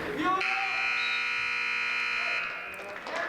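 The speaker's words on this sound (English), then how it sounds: "There's the buzzer for the end of the first period" At a high school varsity wrestling match, a steady electronic buzzer sounds for about two seconds to end the first period. It rings loud and continuous, then cuts off into quiet gym ambience.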